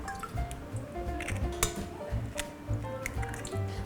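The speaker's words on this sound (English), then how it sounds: "I'm going to crack 4 large free-range eggs into my mixing bowl" Four large free-range eggs are cracked into a mixing bowl, giving soft, quiet wet squishes and drips with light clinks spread across several seconds and no talking.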